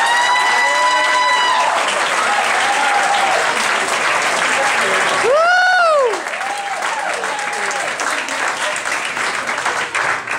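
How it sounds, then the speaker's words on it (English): A comedy club crowd in Levittown claps loudly for kid comedian Stephen Prestia, a dense wash of sustained applause with a few whoops, tapering slightly toward the end while a voice carries over it. "Please clap for Stephen Prestia."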